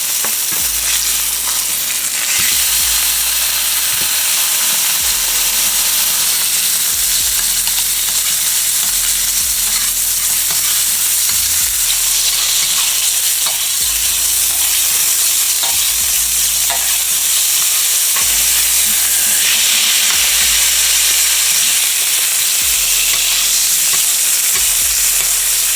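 A steak fries in a pan with butter and rosemary, giving a loud, steady, close-up sizzle and spatter that runs continuously, with light stirring and scraping knocks in the background.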